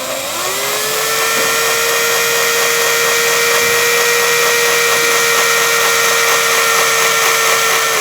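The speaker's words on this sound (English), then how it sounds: "now we're going to drill in." A power drill spins at steady high speed, boring out a pin in the interior door handle of a 2008-2014 Mercedes-Benz C300, a loud, continuous whine held close for about eight seconds.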